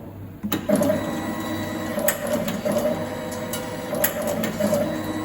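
A wire cutting and stripping machine runs close by with a steady mechanical whir, regular clicking cycles and sharp clacks repeating about once a second, with no one speaking.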